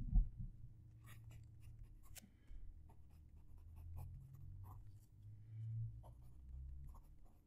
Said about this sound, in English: I'm going to move the mic down to the paper so you can hear the pen write.